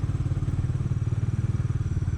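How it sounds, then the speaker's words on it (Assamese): A brand-new Bajaj Dominar 400 motorcycle at zero kilometres being ridden, its engine throbbing in a fast, even low pulse, close and steady throughout with no talk. "ফাইনেলি ডমিনাৰ 400খন মই এতিয়া চলাই আছোঁ।"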